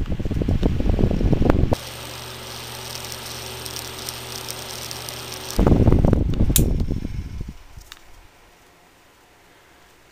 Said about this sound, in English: I'm probably going to have to let this fan warm up because she spins slow at start